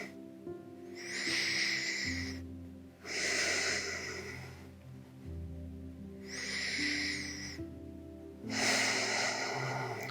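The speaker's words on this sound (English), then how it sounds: "Breathe in through the right side body." Slow, deep breaths from a yoga class alternate in long, audible inhales and exhales, each lasting a couple of seconds, heard close and alone over faint background tones.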